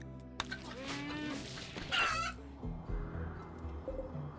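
Chickens in the colony-building video game RimWorld cluck and squawk in a loud burst, with several overlapping calls and a sharp cry in the middle, then quieter clucks that trail off.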